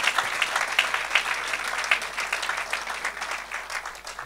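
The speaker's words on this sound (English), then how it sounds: "If you want to clap unto God, you better do it." A church congregation at a worship service claps together in a dense, lively burst of applause that stays fairly even, then eases slightly toward the end.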